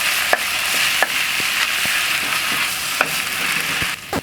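Red curry paste sizzles steadily in a hot pan on a Pit Boss Sportsman 3 portable gas grill, a constant bright hiss broken by a few light utensil clicks as it is stirred, with no talking.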